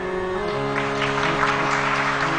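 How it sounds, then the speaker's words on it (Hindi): Audience applause at a Ram Katha religious gathering, a steady wash of clapping from a large crowd over a sustained musical drone, continuous and fairly loud throughout. "फिर ताली बजाइए"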